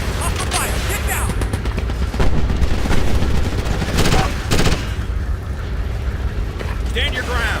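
Sustained automatic gunfire and sharp shots from a Ghost Recon Advanced Warfighter firefight on Xbox One X, loud and dense with heavy rumbling booms, bursts clustering around the middle, with voices talking faintly beneath the battle noise.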